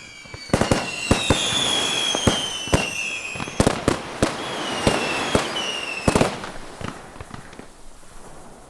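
A fireworks display on Tahiti, held as a British festival, gives off sharp bangs and pops at irregular intervals over a continuous crackling rumble, with several bursts close together and some fainter ones trailing off.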